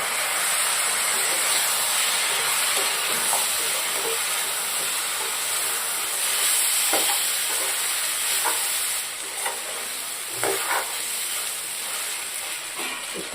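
Rice sizzles and hisses as it fries in a pan for pulao, with intermittent scraping stirs and small knocks over a loud, steady frying noise.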